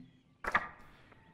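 A single crisp snip of garden shears in a gardening video game, one sharp metallic cut in an otherwise quiet moment, with a faint ring trailing after.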